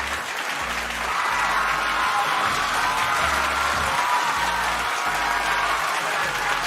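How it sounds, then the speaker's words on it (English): Sustained audience applause at a Sandbox game streamer meetup, steady and fairly loud throughout with dense clapping and occasional low thumps underneath. "Everybody give a round of applause to Sharp"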